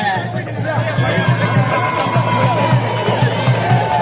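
Crowd noise at a Tamil political campaign rally, a dense babble of cheering and chatter under a loud amplified voice addressing the gathering, with steady rhythmic thumps running beneath.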